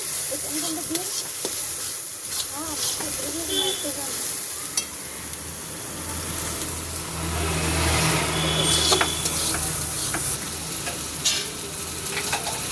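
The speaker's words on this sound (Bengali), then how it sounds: "এবার দিচ্ছি লবণ, ভালো করে এবার কষাচ্ছি।" Food sizzles and is stirred in a hot pan while salt goes in, a loud continuous frying hiss with scraping spoon strokes and a low background engine rumble.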